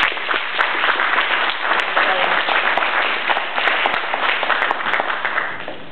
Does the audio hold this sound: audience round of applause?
yes